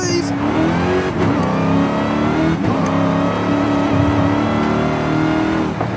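A Dodge Hellcat engine in Forza Horizon 5 roars continuously at high revs, loud and close, with brief dips as gears change and a faint supercharger whine riding over it.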